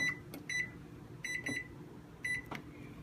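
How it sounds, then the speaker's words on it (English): Several short, high electronic beeps come in quick clusters from a kitchen timer being set for cooking a breakfast egg, with soft clicks between them and quiet room sound underneath. "you set your timer for 15 minutes"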